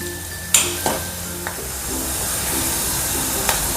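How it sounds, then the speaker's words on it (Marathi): Turmeric, red chili powder and salt being stirred into eggplant frying in a pan for bharit, with a steady sizzle and a few sharp scrapes and clinks of the spoon, close up. "हळद, तिखट आणि मीठ हे चांगलं मिक्स करून घ्यायचं."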